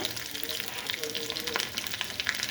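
Garlic tossed into hot oil with cumin crackles and sizzles steadily up close, a dense continuous frying hiss while a North Karnataka garlic chutney is cooked.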